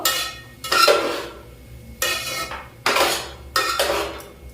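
A metal spoon scrapes and clanks in a pan while cooked rice is mixed with fried mixed vegetables, in four separate bursts of scraping strokes with short pauses between them.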